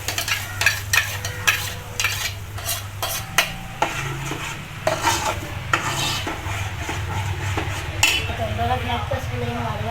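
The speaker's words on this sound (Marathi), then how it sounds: "तो मसाला जो केला आहे तो चांगला फ्राय करून घ्यायचा आहे तेलामध्ये" Masala for a Konkani prawn dish fries in oil as a spoon stirs it, with a steady sizzle under repeated sharp scraping and clinking against the pan, close and busy throughout.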